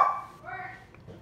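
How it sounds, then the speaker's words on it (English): A dog barks indoors in a home kitchen while a cook prepares lasagna and zucchini parmesan. It is a single short, close bark or yip, with a voice heard around it. "can you get the dog out of here?"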